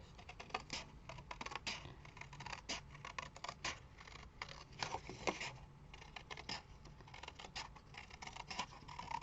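Scissors snip through paper for a handmade mini album, a close series of irregular crisp cuts and rustles repeating throughout, fairly quiet and without speech.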